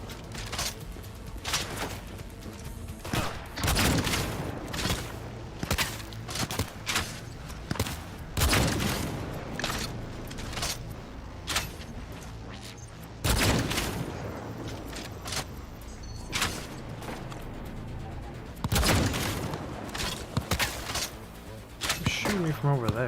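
Enemy gunfire in Cyberpunk 2077, from someone shooting at the player from a distance: sharp shots and short bursts that come in irregular clusters over steady game ambience, some loud and close, others softer.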